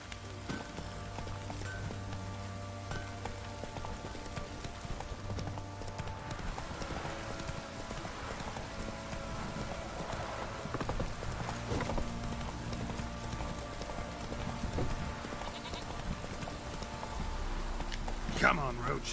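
Roach the horse gallops in The Witcher 3, hooves clip-clopping steadily throughout under a constant ambient game soundscape, with talk in the background.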